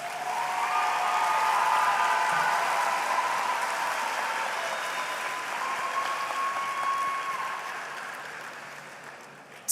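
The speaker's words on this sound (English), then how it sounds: "Let's give them a nice round of applause." Steady applause from a graduation ceremony audience at Destrehan High School, moderately loud and even, slowly tapering over about ten seconds.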